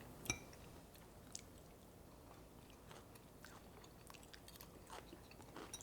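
Quiet, close-up crunching and chewing of crunchy green beans with a few sharp bites, some soft clicks scattered over faint background hiss.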